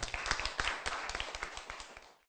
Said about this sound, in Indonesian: Mari kita tepuk tangan untuk kelompok 3 dan Kevin dari kelompok 4